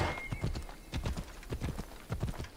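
A horse galloping in the video game Assassin's Creed Odyssey, with steady rhythmic hoof clip-clops repeating evenly and fairly close throughout.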